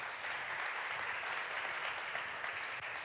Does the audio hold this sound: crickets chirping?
no